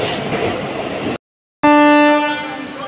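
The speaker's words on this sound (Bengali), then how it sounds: "Kanchenjunga express arriving from new Alipurduar station platform number 2" A Kanchenjunga Express train sounds at a station platform: rumbling noise cuts out briefly, then a loud, sustained horn blast rings out close by.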